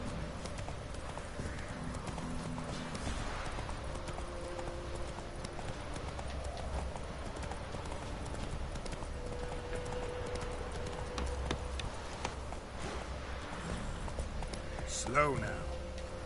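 Galloping horse in The Witcher 3, giving a continuous even clip-clop of hooves at moderate volume with a soft background bed throughout.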